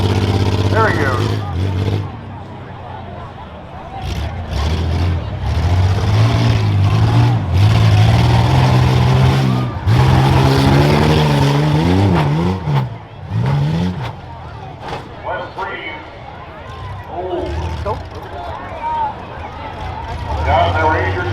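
A rough truck's racing engine revs hard at the 2024 Hartford Fair, loud and close, pitch rising and falling repeatedly as the driver struggles with gears through a tight infield section.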